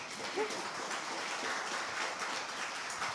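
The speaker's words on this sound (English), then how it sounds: "A round of applause, please." An audience at a women peacebuilders forum breaks into a dense wash of applause, many hands clapping steadily throughout and heard from a moderate distance in a hall.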